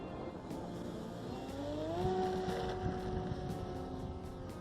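Flyzone Cessna 182 Skylane electric RC model plane on its takeoff run, a steady motor whine climbing in pitch as it speeds up, loud and close over constant outdoor noise, with no talking.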